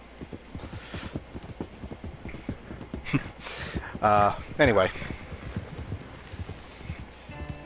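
Horse hooves clip-clopping at a steady trot while riding in Red Dead Redemption 2, a regular close rhythm broken by a couple of whinnies, with someone talking over it.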